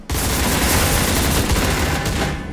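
A dense, continuous volley of video game gunfire roars steadily for a couple of seconds, loud and unbroken, with no talk over it.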